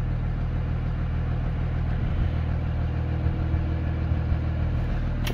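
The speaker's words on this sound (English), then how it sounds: "as you can tell, engine's running but not engine fan" A new school bus engine idles steadily with its cooling fan not running, a constant low rumble with faint ticks and no voices.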